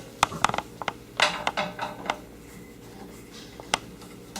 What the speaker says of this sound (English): On the back of your cart, you'll be able to loosen your height adjustment screw.